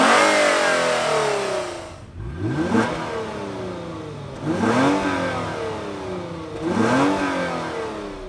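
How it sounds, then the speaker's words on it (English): A 2020 Lexus GS350 AWD with a naturally aspirated 3.5-liter V6 revs hard three times in a row. Each rev climbs sharply, then falls back toward idle. The engine is close, loud and alone. "V6s typically sound pretty awful, but this one, it actually sounds pretty nice when you get it up in the revs."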